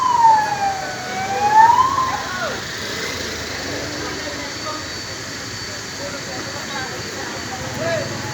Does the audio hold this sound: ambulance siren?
yes